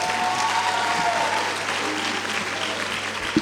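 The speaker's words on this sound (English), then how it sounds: "Can you clap?" Audience clapping for an award winner at a school awards evening, a dense, even burst of applause sustained throughout with a brief tonal whine early on.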